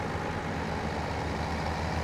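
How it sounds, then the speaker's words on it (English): Steady low diesel rumble of a truck engine in Farming Simulator 17 on the Goldcrest Valley map, a continuous even drone that holds unchanged throughout with no talk over it. "The truck sound, the tractor sounds are amazing."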